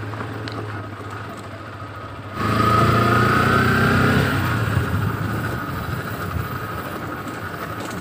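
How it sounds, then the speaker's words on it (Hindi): A motorcycle ridden at night along a rough, badly broken village road: a steady engine drone that swells noticeably louder after about two seconds and keeps rumbling close, with no talking. "रात को एक रास्ते में चलाने में बाइक को राइड करने बहुत ही मज़ा आ रहा है"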